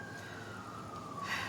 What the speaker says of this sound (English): I'm sorry guys if you hear the sirens going, I live near a very busy intersection.